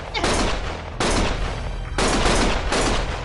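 Heavy gunfire in the video game Lost Judgment, loud sustained bursts of rapid shots in roughly one-second waves, close and dense, with a voice briefly heard amid the shooting.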